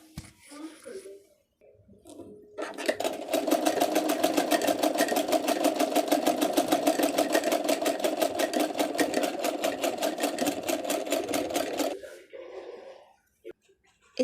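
A sewing machine stitches a blouse in one continuous fast run of about nine seconds, close and loud, with quiet handling sounds before and after.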